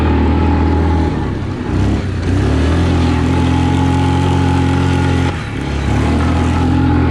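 2020 Yamaha Kodiak 450 EPS ATV in two-wheel drive high on a muddy trail, engine held at full throttle with a steady, loud, close drone that dips briefly twice.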